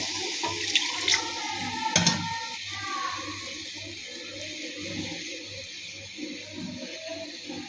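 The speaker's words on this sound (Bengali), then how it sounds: "মাছটা কষানো হয়ে গিয়েছে, দিয়ে দেবো কিছুটা পরিমাণ পানি" Water poured into a pan of sarpunti fish braised with lemon leaves, a steady splashing pour that runs throughout with a few sharper splashes near the start.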